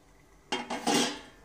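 Raw okra tumbles into a pan holding a bowlful of water over a raised gas flame for bhindi masala, giving a few close, clattering splashes that end in a wet rush and fade.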